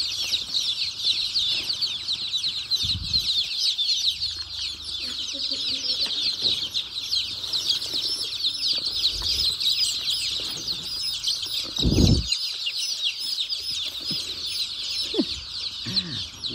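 Native desi chickens being caught by hand for Lasota vaccination cluck and squawk continuously, with loud bursts of wing flapping and scuffling nearby and occasional talk in the background.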